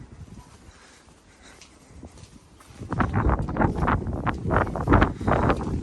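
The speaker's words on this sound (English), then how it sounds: "It's a bit windy, sorry guys." Gusts of wind buffet the microphone with low rumbling thumps, building from a gentle rustle into heavier, uneven bursts of blowing noise.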